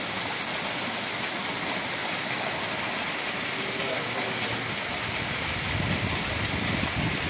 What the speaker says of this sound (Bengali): প্রচণ্ড বৃষ্টি পড়ছে, প্রচণ্ড।